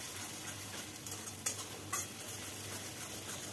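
Ginger-garlic paste frying in a pan gives a soft, steady sizzle, low in level, with a couple of brief spoon scrapes or clicks partway through.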